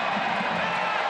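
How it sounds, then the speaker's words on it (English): Stadium crowd at a Tampa Bay Rowdies versus Orlando City B USL soccer match gives a brief, sustained roar with cheering, a broad wash of many voices. "the roar of the crowd"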